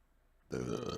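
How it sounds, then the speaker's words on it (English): A single loud, drawn-out burp erupts after half a second of near silence, close and resonant, lasting to the end. "Excuse me. I'm burping."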